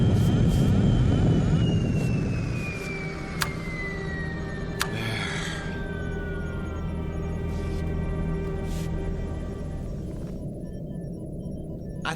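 A sci-fi radio drama effect of spaceship thrusters firing during a crash landing: a loud, continuous engine roar with a long falling whine, a few sharp bangs, and low rumbling that stays steady to the end.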